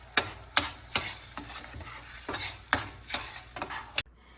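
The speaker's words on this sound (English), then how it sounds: "We'll stir it for a few seconds and then let it boil for 5 minutes." Buffalo sauce being stirred in a pan, with a steady sizzle under repeated sharp scrapes and knocks of the utensil against the pan, close and moderately loud, no talking.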